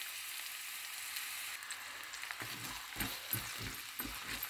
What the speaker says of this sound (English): Let onion cook for 1 to 2 minutes